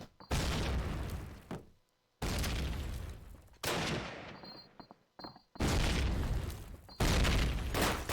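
Grenade explosions in a Call of Duty match land as loud booming blasts in quick succession, each followed by a brief ringing fade and short gaps of near silence between them.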